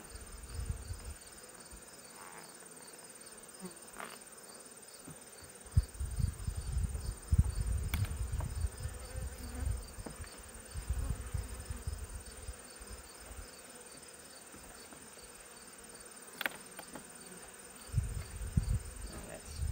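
A steady swarm of honeybees at an open hive hums throughout, close and continuous, with occasional low thumps and rustling of handling underneath.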